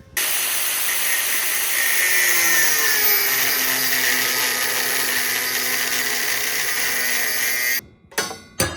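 A power tool cuts a piece of a truss for a shipping container building, a loud, steady whining hiss that runs for several seconds before stopping abruptly with a few short clatters.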